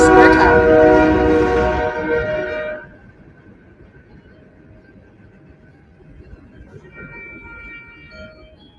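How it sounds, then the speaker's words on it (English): A passing train sounds a loud, blaring horn up close for about three seconds, then it cuts off, leaving a faint low rumble and distant rail noise. "Train is loud."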